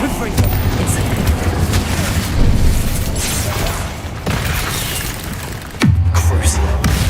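Spell explosions in the Hogwarts Legacy video game, heavy booming blasts with rumbling tails, one sharp new burst near the end, loud and continuous over a dense action mix.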